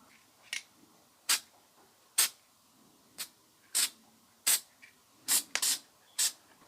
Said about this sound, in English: And then I think I might go in with my snow spray.